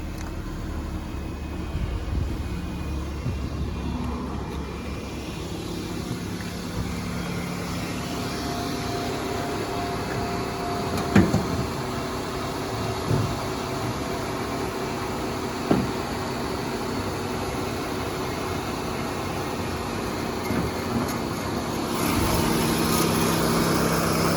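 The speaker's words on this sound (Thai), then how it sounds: "สตาร์ทครั้งเดียวติดนะครับ" A 2012 Nissan Almera 1.2E with a manual gearbox idles steadily after starting, a continuous low engine hum with a brief clunk or two over the top, heard from close by with no talking.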